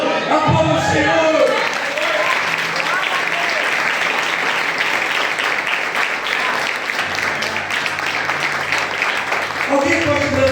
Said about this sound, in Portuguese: Você pode se alegrar esta manhã, aplauda o Senhor